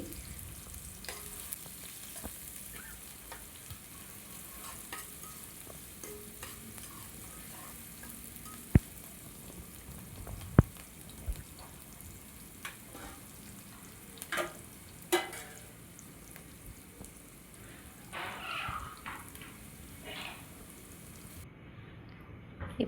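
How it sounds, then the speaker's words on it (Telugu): A quiet, steady sizzle of onions frying in a pan for fish curry, broken by occasional stirring clicks and taps, close up and fairly faint. "మనం ఉల్లిపాయలు కొంచెం వేగనివ్వాలండి"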